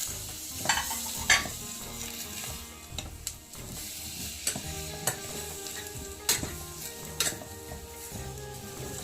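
Vegetables, cashews, peas, cauliflower and carrots fry for a quick pulao. A continuous close sizzle runs throughout, broken by repeated spoon scrapes and clinks against the pan. No one speaks.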